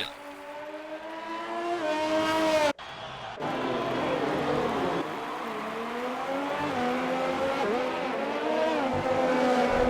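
Race cars in an F1 racing video game, a Ferrari-powered Haas heading into turn 3 at Bahrain, with a steady high engine whine and shifting pitch through the corner, a brief cut near the start, under continuous commentary.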